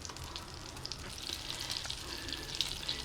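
Butter sizzles and crackles steadily in a kadai pan, a faint, continuous fry with small popping bursts and no voices.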